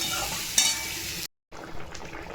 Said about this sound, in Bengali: বেশি কথা না বলে এবার জল দিয়ে দেবো